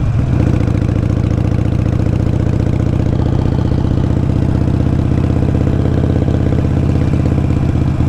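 A motorcycle engine runs steadily nearby, a loud, even low rumble with rapid mechanical pulsing as the rider shifts from first into second gear, no talking.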